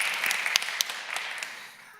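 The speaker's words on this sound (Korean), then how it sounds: "박수 한번 하겠습니다." A short burst of applause from a church congregation, sharp claps fading out after about two seconds.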